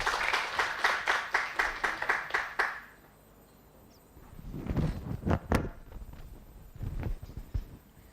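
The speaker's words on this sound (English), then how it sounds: "a big round of applause for Bhavesh" A lecture audience claps in a round of applause, about three seconds of rhythmic, fairly sparse clapping, followed by quieter shuffling and thumping sounds.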